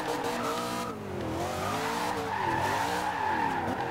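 A Camaro Z/28 drifting in Forza Horizon 2, its engine note rising and falling under sustained tire squeal and skidding, loud and continuous without talk.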